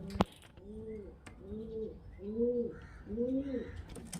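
Kalshira Madrasi highflyer pigeons coo close by in four evenly spaced, throaty rolling calls with brief clicks and rustles between them, and no talking.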